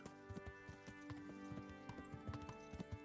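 A horse walks in the Kingdom Come Deliverance game, its hooves clip-clopping in a quiet, steady, irregular rhythm, with no talk.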